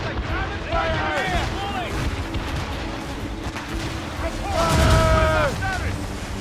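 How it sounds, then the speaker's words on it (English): A cannon volley in the Assassin's Creed Rogue video game booms in a loud, rumbling low burst near the end, while shouting voices ring out over wind and battle noise. "They're firing a volley! The cannon fire!"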